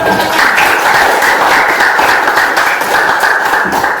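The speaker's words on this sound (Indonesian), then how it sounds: "Semuanya tepuk tangan dulu." Children in a classroom give a lively round of applause, loud, close clapping in a busy, slightly rhythmic patter lasting several seconds.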